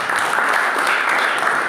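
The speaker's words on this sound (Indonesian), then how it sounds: "Tepuk tangan untuk Tuhan." Congregation applauding during a church service, a dense, steady wash of clapping that fills the whole short stretch at an even level with no voices standing out.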